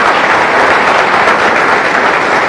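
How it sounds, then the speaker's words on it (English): A conference audience gives a loud, sustained round of applause for four finance ministers at a televised budget debate, dense clapping filling the room evenly from start to finish. "A round of applause for these 4 finance ministers."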